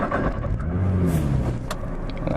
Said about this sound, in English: I'm about to go on my first drive in the Nissan GTR, just to experience it